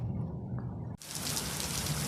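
Rain falls steadily outdoors, beginning as a faint patter with low wind rumble and then abruptly swelling into a loud, dense hiss of a heavy downpour.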